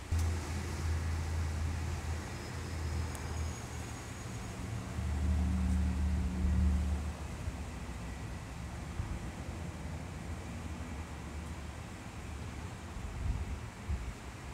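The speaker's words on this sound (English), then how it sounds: "That big gust just came through, and Remy was out" Wind gusting outdoors on a breezy day, a broad rumbling rush buffeting the microphone, swelling strongest around the middle and then easing into a steadier blowing noise, with no voices.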